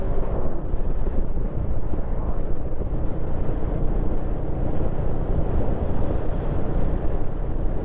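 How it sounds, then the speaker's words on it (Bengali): Wind blows steadily against the microphone on a mountain road, a low, constant roaring rumble without pauses, close and fairly loud, with no talking. "তেমনি হাওয়া চলছে"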